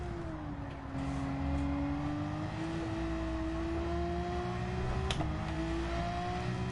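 Ferrari race car engine in a racing video game at the Nürburgring, a steady, loud whining drone that climbs slowly in pitch, with a brief sharp blip near the end.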